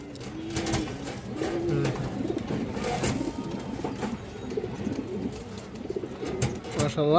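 A male khaki pigeon coos repeatedly at close range in soft, throaty bursts, with someone talking over it and faint background noise.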